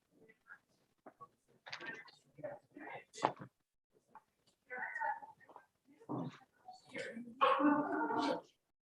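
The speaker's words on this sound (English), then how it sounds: "Good boy, no barking." A dog barking and yipping in short, close bursts during Friday evening Shabbat services, mixed with a person's calm speech.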